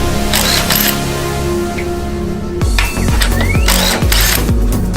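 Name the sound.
impact driver removing Polaris RZR shock bolts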